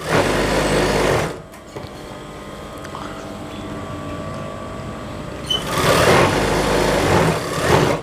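An electric sewing machine runs stitching a churidar pajama seam, a fast close whirring burst at the start, a quiet pause with faint handling, then another whirring run near the end.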